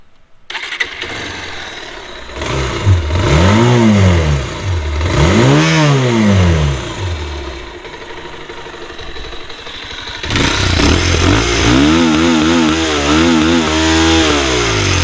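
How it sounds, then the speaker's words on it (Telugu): Bajaj Pulsar 220F motorcycle starts up and its exhaust is revved repeatedly, loud and close, rising and falling blips over idle, then a sustained higher rev to the end. "ఒకసారి ఎగ్జాస్ట్ సౌండ్ అయితే ఇవ్వనండి"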